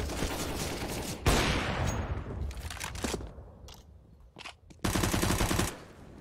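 Rifle fire on the Inferno map in Counter-Strike, with loud rapid bursts near the start and again toward the end, and scattered single shots and fainter clatter between them.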